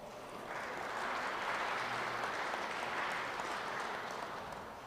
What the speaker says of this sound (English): So give him a round of applause as well.